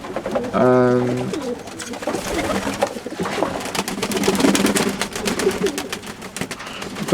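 Pigeons coo in an aviary during bird ringing, with a loud, close, throaty coo near the start followed by softer murmuring calls, while a person is heard in the background.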